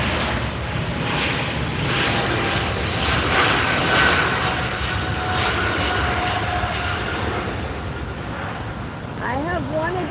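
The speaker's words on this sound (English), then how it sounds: "Air France taking off." An Air France airliner takes off at LAX, its jet engines roaring loud and steady for the full stretch, with faint voices partly masked by the engine noise.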